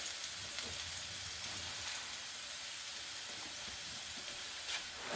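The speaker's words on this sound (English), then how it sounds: "So now I'm going to put my onions in here." Onions going into a pan where squash, zucchini and potatoes are already frying: a steady, moderately close sizzle with faint crackling and spitting throughout.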